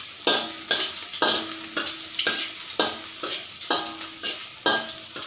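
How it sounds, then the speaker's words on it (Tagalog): Garlic and ginger sauté in a hot pan, sizzling under regular scraping stir strokes about twice a second. The sound is close, moderately quiet and steady, with no voices. "Haluin natin hanggang maging golden brown."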